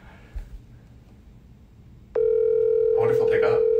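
A steady telephone dial tone on speakerphone starts abruptly about halfway through and holds loud and unbroken, after a quieter stretch of room noise, with people talking over its final second.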